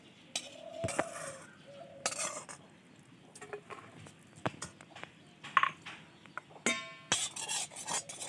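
Metal utensils clink and scrape against a pot and bowl as cooked Maggi noodles are transferred, giving irregular sharp clatters and taps spread across the moment, close and fairly loud in a quiet kitchen.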